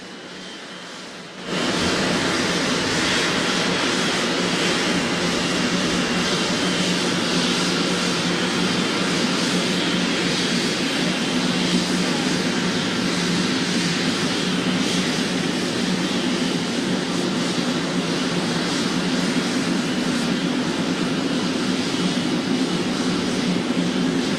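Aircraft engines roaring steadily on the runway at Tampa International Airport, a continuous loud broadband rumble and whine that starts abruptly after a brief quiet moment and holds without pause.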